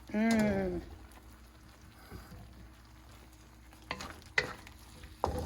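Chicken, vegetables and pepper stir-fried in a pan over low heat, a soft sizzle under a few sharp scrapes and clacks of stirring, following a brief tonal sound at the start.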